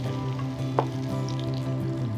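Fried onion goes into a pan for chicken rezala, and a steady, close sizzle follows with a low continuous hum underneath and one brief clack near the middle.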